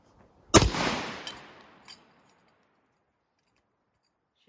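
A Citadel Boss 25 12-gauge shotgun fires one loud, close blast that rings out and decays over about a second, followed by a faint mechanical clack as the action cycles.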